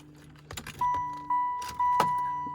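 Keys jangle close by as a 1996 car, a poorly running vehicle awaiting a tune-up, is readied to start, followed by a steady electronic warning chime that sounds in two long stretches with brief clicks between.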